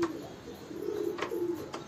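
Roller pigeons coo in low, soft, throaty phrases that repeat through the moment, fairly close, with a faint background hiss.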